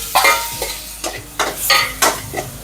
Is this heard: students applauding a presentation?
no